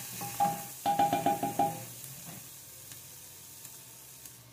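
Half a dedo de moça chili pepper frying in a pan, with a short run of clattering stirring knocks near the start, then a soft, steady sizzle continuing underneath.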